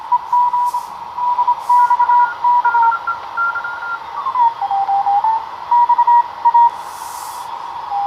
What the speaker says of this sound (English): So now you can tune in a CW's signal here.